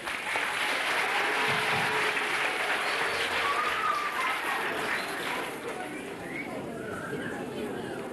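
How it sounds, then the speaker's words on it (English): Sustained applause from a village audience for local national school children at a parish show, steady clapping that fills the clip and eases slightly toward the end, with some crowd voices mixed in. "I'd like to give them a big round of applause"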